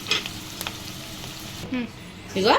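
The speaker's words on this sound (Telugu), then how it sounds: "ఉల్లిగడ్డలు మంచిగా గోల్డ్ కలర్ వచ్చేంత వరకు ఆయిల్లో ఫ్రై చేసుకుందాం" Sliced onions frying in oil in a pan, a steady close sizzle with a few light clinks and stirring scrapes through it.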